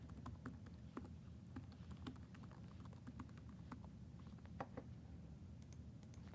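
Quiet computer keyboard typing, a steady run of light, close key clicks over a low background hum, with no talking.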